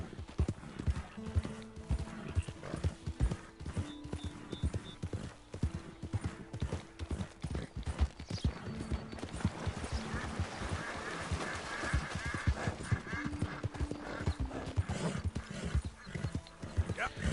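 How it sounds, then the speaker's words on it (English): A horse in the video game Red Dead Redemption 2 clip-clops steadily on its hooves throughout, with a few neighs and complaining whinnies mixed into the trotting, close and fairly quiet. "So you can hear the horse complain"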